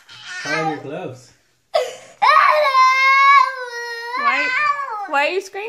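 Young child crying and screaming on Easter morning, with sobbing bursts, a brief pause, then a long, loud, high wail that breaks into whimpering, close by and mixed with an adult speaking.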